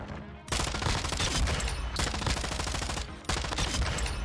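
Automatic weapon fire from Modern Warfare 2 rattles in long, loud, dense bursts, starting after a short quiet moment with brief breaks between sprays.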